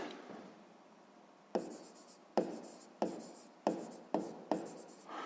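A pen writes on paper in a series of short scratchy strokes, about seven quick scrapes with brief gaps, close and fairly quiet, after a soft rubbing start.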